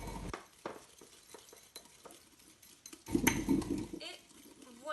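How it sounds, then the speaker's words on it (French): A spoon stirs a sugar, icing sugar and lemon glaze in a bowl, giving soft scraping and clinking strokes in an uneven rhythm, fairly quiet, with a louder burst of stirring near the end. "Et je mélange."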